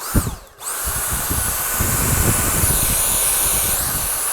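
A Dyson V7 Fluffy cordless vacuum cleaner runs steadily up close, its motor giving a continuous airy whine with a brief dip near the start and no talking.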